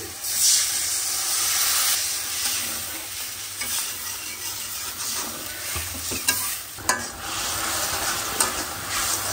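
Garlic paste sautéing in a pan, a loud continuous hiss and sizzle with steam, punctuated by several scraping stirs of a spatula near the end, no talk.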